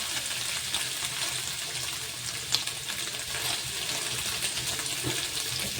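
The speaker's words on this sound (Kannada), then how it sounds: "ಇದನ್ನು ಕಮ್ಮಿ ಉರಿ ಒಳಗೆ ಇಟ್ಕೊಂಡು ಫ್ರೈ ಮಾಡ್ಕೋಬೇಕು ರೀ." Paneer cubes fry in oil in a pan over a low flame, giving a steady, close, dense sizzle throughout with one brief clink partway through.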